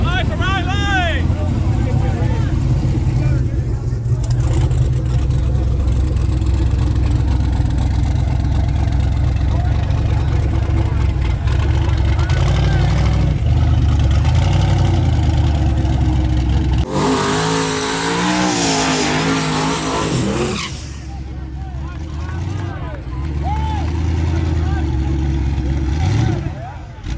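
Second-chance class cars race at a drag strip: engines drone and rev loudly for long stretches, with one sharp surge of acceleration, while a voice talks over much of it.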